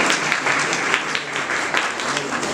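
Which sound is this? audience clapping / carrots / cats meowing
audience clapping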